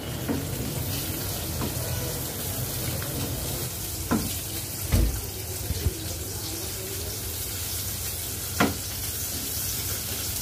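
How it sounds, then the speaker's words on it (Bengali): Sliced onion sizzles steadily in a hot pan with oil, a continuous close frying hiss broken by a few sharp clinks and scrapes of a utensil against the pan. "পেঁয়াজটা হালকা ভেজে নিয়েছি।"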